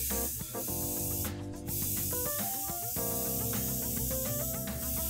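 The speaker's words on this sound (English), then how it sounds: "the other possibility here is for me to turn the airbrush up a little bit" An airbrush spraying paint that has been thinned too little, giving a continuous close hiss with a layer of shifting tonal sound running steadily beneath it throughout.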